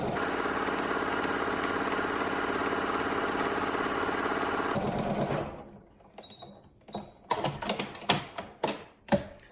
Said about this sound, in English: line that presser foot up on right on the drawn line, and then sew down the other side